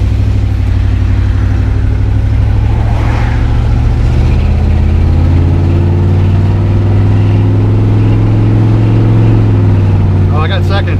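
A 1988 Chevy truck with a weak transmission, its engine droning loud and close as it pulls up through the gears, pitch rising and settling, while someone talks over it.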